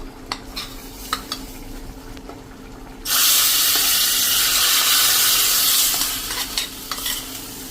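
Garlic hitting hot oil and butter for a pav bhaji tempering bursts into a loud, steady sizzle that holds for about three seconds and then eases off, heard up close after quieter kitchen clatter.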